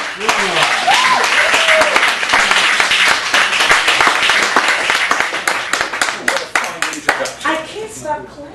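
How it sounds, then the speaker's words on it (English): An audience at a Chicago cafe gallery cabaret applauds a poet, with close, dense clapping throughout and voices talking over it, thinning toward the end. "I can't stop clapping."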